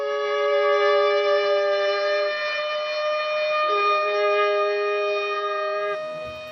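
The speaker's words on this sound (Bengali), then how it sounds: "নেতাজিকে শ্রদ্ধা জানাতে জন্মক্ষণে বেজে ওঠে সাইরেন" At a Netaji birth anniversary tribute on Red Road, Kolkata, a powerful siren holds a long, steady wailing tone, dips briefly in pitch midway, then fades out toward the end, alone without talk.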